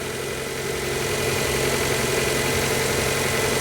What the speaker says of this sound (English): now we can hear and see that Mitsubishi Orion engine ticking over